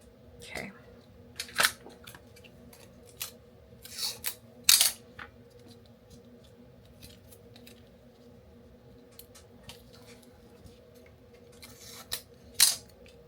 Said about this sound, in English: So I think I'm gonna make the white bigger and cut more off the patchwork side.